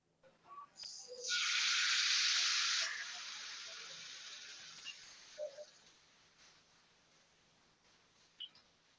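Kimchi pancake batter, mixed with kimchi liquid, hits hot frying oil with a sudden loud, hissing sizzle that holds for a couple of seconds, then settles into a softer, steady crackle.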